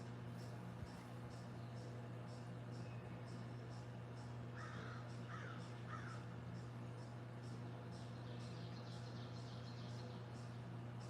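Three crows cawing in a backyard, short harsh calls in quick succession at moderate distance over a steady low hum and faint ambient background.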